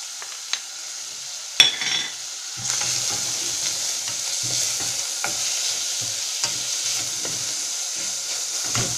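Onions frying in a casserole pan for a chicken and cheese omelette, with a sharp knock and then a steady sizzle that carries on, broken by repeated stirring scrapes, close and clear, no voices.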